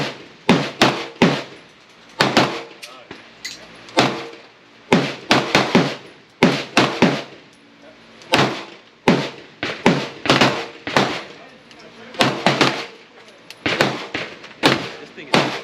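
Canik Mete MC9 9mm pistol firing 124 grain rounds, a steady string of sharp, loud shots in quick bursts of two or three with brief pauses, close and punchy throughout the clip.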